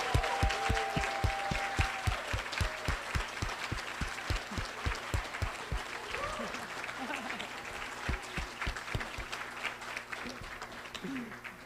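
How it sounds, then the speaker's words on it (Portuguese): An audience at a Brazilian trail network congress claps for an ICMBio team. The applause is loud, steady and close, with dense rhythmic claps that ease slightly toward the end. "uma salva de palmas, por favor, para todos e todas do ICMBio"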